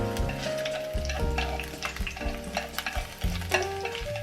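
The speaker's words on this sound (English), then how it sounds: "Cut some scallions and put them into the pan." Chopped scallions fry and sizzle in a hot pan while being stirred, a steady close crackle broken by repeated scraping strokes of the utensil, with no talking.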